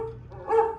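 A dog barks close by in a short burst, a low yip followed by a louder bark, with no talk over it.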